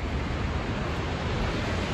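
Snoqualmie Falls waterfall roaring as a steady, broad wash of rushing water that stays constant and fairly distant, with no voices over it.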